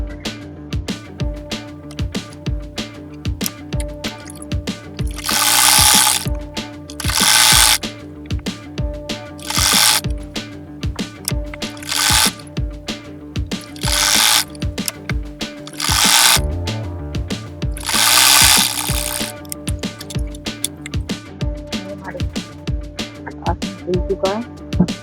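A sewing machine stitching a wrap palazzo trouser, its needle clattering in a fast steady rhythm throughout, broken by several louder bursts of running, with faint talk in the background.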